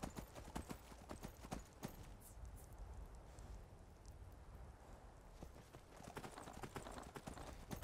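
Horse hooves clop along at a walking pace on a hard surface in the video game Skyrim, steady and close, with no talking.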